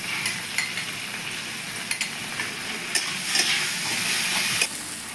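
Ginger, cumin, chili and garlic paste hit hot oil with tomato and onion for a rui fish-head curry, giving a steady close sizzle broken by sharp scrapes and taps of the stirring spoon.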